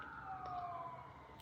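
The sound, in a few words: emergency vehicle sirens passing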